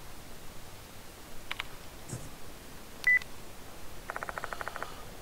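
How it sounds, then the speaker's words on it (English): A phone vibrates in a room in the video game Spirit Hunter: Death Mark II. Scattered faint clicks and a short beep come first, then a quick run of pulsing buzzes near the end, all quiet against a soft background. "The sound of a phone vibrating echoes in the room."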